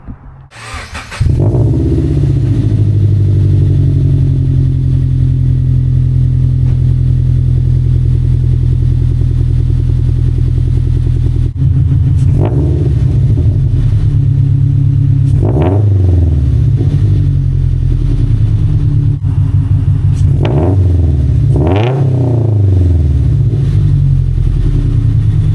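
A Subaru BRZ fitted with UEL headers idles with a loud, steady boxer rumble, then gets blipped through a few short, sharp revs that rise and fall back to idle near the end, close by with no talking.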